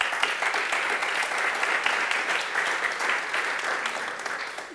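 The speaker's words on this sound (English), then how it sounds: "A round of applause." Steady audience applause welcoming a panel at a music industry talk in Brussels, a continuous dense patter of many hands at moderate level throughout.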